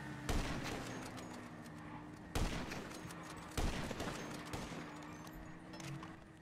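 Sniper shots in a video game ring out three times at spaced intervals, each a sharp report over a steady background hum and faint game noise, fairly quiet overall.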